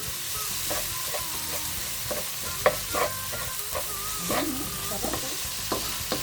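Okra, ground meat and shrimp paste (bagoong alamang) with onion, tomato and garlic being stirred in a hot pan, a steady sizzle broken by repeated scraping strokes of the spoon, close and without voices.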